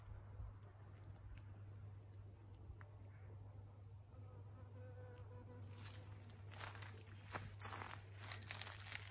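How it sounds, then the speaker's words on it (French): Insects buzz continuously nearby under a low steady hum, growing busier and louder toward the end, with faint rustling and no talking. "On entend le bourdonnement, plus que d'habitude, des insectes."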